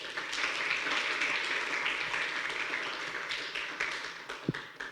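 An audience claps steadily for several seconds, a dense even patter that gradually thins out, with a few louder individual claps near the end.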